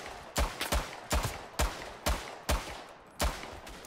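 Rapid, sharp gunfire bursts crack out in a World War I battle in Tannenberg, seven loud shots spaced roughly half a second apart, each with a short echoing tail, amid a constant low battlefield rumble.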